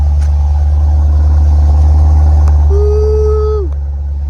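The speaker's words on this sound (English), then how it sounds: "I'm finna go to the exhaust so y'all can hear it." A Dodge SRT's exhaust rumbles steadily at a car meet, a loud, close, deep idle-like drone with a brief rising whine near the end.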